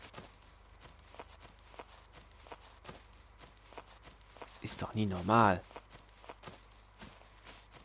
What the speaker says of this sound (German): Also, ich höre Schritte, aber er schwimmt.